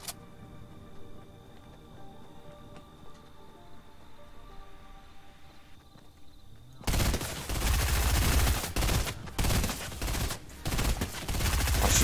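Sustained burst of Fortnite gunfire in a solo Battle Royale match, loud rapid shots erupting after several seconds of quieter game ambience and continuing to the end.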